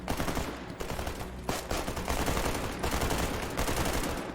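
Rapid bursts of automatic gunfire in a S.T.A.L.K.E.R. GAMMA fight with mutants on a hill, loud and dense, with repeated volleys rattling almost without pause.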